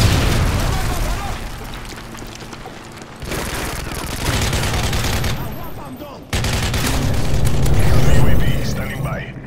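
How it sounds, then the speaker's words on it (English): Loud, dense explosions and gunfire during Modern Warfare 3 gameplay as a predator missile strikes, heavy rumbling blasts and crackling bursts layered together, with voices talking over the chaos. "Friendly predator missile inbound."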